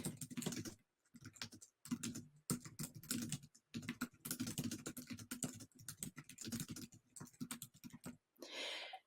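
Rapid keystrokes on a computer keyboard while an estimate is entered into software, a steady close clatter in bursts with short pauses, ending in a brief rustle.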